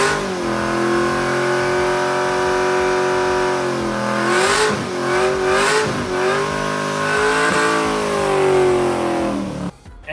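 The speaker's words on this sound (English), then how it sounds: "And I did a pretty good burnout" A car does a burnout with its engine revving hard and steady, rising and dipping in pitch, and tires squealing continuously for about ten seconds, loud and close, with no one talking.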